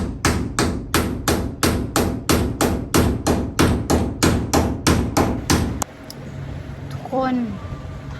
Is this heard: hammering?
yes